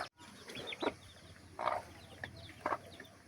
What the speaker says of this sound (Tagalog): para makainom din yung mga alaga nating manok